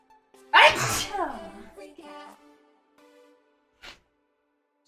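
A girl gives one loud, close sneeze near the start, then chatter and a few scattered small sounds follow as it fades.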